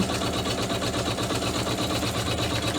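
Embroidery sewing machine stitching steadily after being rethreaded, a loud, even mechanical chatter with a fast, regular pulse running throughout, no voices.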